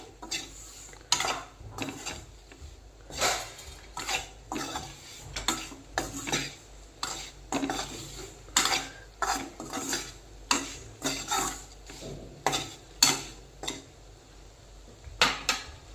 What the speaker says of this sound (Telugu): పౌడర్ ఏమన్నా ఉంటే అది వేసేస్తాము వేసేసి ఒక టూ మినిట్స్ బాగా కలబెట్టుకుందాం